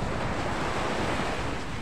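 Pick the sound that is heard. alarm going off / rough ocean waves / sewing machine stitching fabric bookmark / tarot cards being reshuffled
rough ocean waves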